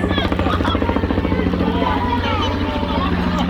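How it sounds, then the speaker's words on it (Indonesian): A helicopter flies over a family swimming pool, its steady rotor thump and engine drone filling the low end while children and adults chatter and call out nearby. "Ada helikopter guys."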